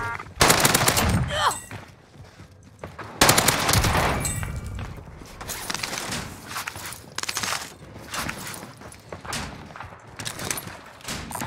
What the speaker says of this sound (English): the strafe speed on this gun is ridiculous